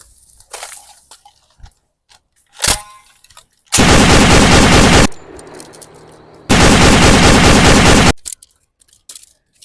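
Gunfire in an action short film: a single sharp crack, then two long, very loud sustained bursts of rapid fire separated by a brief pause.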